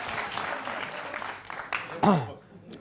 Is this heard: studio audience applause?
yes